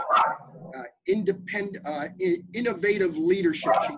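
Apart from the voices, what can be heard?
barking dog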